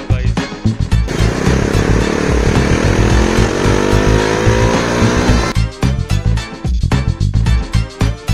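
Bajaj Dominar 400 motorcycle on a Sunday ride: a loud, steady engine roar with rising revs through the middle, breaking into choppy throttle bursts toward the end.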